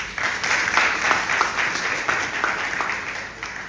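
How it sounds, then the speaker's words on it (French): Applause from the audience at a celebration of the International Day of the Girl, steady and fairly loud dense clapping that keeps going throughout. "j'aimerais que vous l'applaudissiez pour cela"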